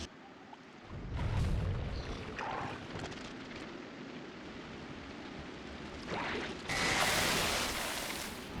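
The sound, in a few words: artillery shot in the video game Factorio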